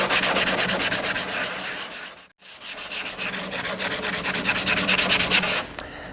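Sandpaper rubs across a jet ski body in fast, even back-and-forth strokes, loud and close, with one brief pause partway through before the rhythmic scraping resumes.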